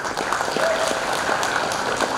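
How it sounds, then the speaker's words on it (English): Audience applause at a career camp event, a steady wash of many hands clapping continuously at moderate loudness. "round of applause for all of you"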